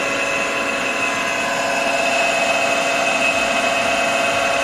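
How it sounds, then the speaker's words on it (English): Fuel pump of an almost 40-year-old Eberspacher D3L diesel heater under restoration, running with a steady whining hum and faint buzzing tones, close and continuous with no talk. "Well, the fuel pump is working."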